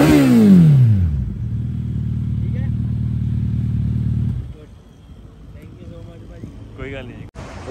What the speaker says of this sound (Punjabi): ਆਵਾਜ਼ ਸੁਣੀ ਹੈ ਮੋਟਰਸਾਈਕਲ ਦੀ। ਮੈਂ ਕਿਹਾ ਲਓ ਜੀ ਸੁਣਾ ਦਿੰਦੇ ਹਾਂ ਤੁਹਾਨੂੰ ਆਵਾਜ਼।